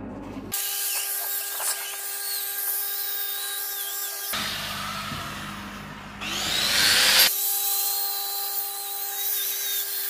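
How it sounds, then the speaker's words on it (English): A wire wheel on a grinder whines steadily against a downhill 6010/7010 6G pipe weld as it brushes off the slag, with a harsher scraping burst midway and the pitch shifting as the wheel is lifted and set back down. "Now I just grab my wire squealy and wire wheel it off."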